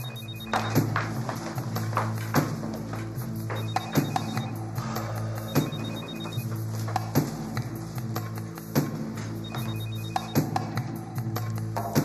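A phone rings in short repeated electronic trills at regular intervals, fairly faint beneath a busy household scene full of clatter and knocking.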